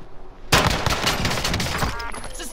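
Heavy video game gunfire erupts suddenly after a quiet moment, a dense loud barrage of rapid shots that keeps going with no letup as the firefight continues.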